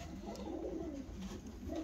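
Fancy costume pigeons, show birds kept in a loft, coo continuously in a low, throaty, rolling murmur, close and steady for a brief moment with no talk.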